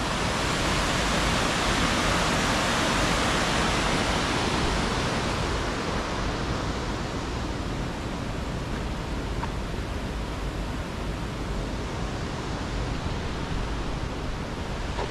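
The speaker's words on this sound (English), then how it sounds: "Nice river." A river in high mountain country flows with a constant, broadband rushing hiss, steady and even throughout with no talking.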